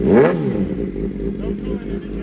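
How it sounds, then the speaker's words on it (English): A Suzuki GSX-R750 motorcycle engine pops and sputters briefly, uneven low firing pulses close by, with someone talking over it. "Hey, she's popping."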